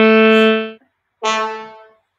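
Two sustained tonal instrument notes from the NSynth collection of pitched instrument sounds, each with a rich stack of clear harmonics, heard alone in clean isolation with a short silent gap between them.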